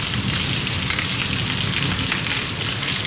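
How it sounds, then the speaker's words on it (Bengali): Steady, dense rain pattering on a rooftop in Pakistan, a constant hiss of drops with no breaks and no voices. "কত সুন্দর বৃষ্টি হচ্ছে দেখেন"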